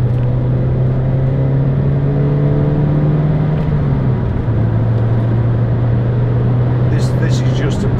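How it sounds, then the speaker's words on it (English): The 1.8 VVT-i engine of a 2006 Toyota MR2 soft-top roadster drones steadily from inside the cabin during a test drive, holding a low hum that dips briefly then settles, while someone talks over it. "you also hear the engine noise"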